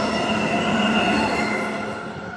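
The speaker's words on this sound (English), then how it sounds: "And there goes a train." A train passes Cannington Station, a loud, steady rumble of rolling rail cars with faint wheel squeal, nearby and with no talk over it.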